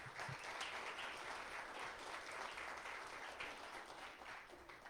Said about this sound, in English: let's give one more round of applause to all of our speakers.